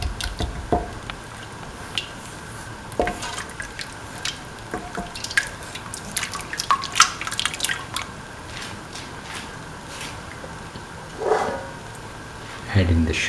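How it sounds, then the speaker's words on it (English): A dates and semolina dessert mixture boils in a pot with scattered soft pops and drips, plus an occasional faint clink of utensils. The bubbling is steady and close, with louder bursts near the end. "Thoroughly mix and let the mixture boil."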